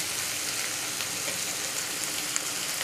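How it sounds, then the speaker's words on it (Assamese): Onions fry in hot oil for a broiler chicken gravy, a steady, fairly loud, even sizzle with no voices. "এতিয়া এই পিয়াজখিনি একেবাৰে ৰংচোৱা হ'ব লাগিব ৰংচোৱালৈকে মই ভাজি থাকিম"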